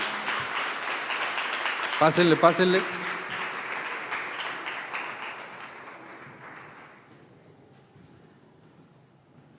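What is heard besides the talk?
audience applause for disciples in church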